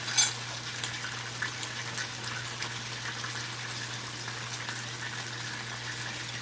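Jamaican escovitch fish frying in hot oil in a pan, a steady close sizzle with soft crackles and a constant low hum underneath, no talking.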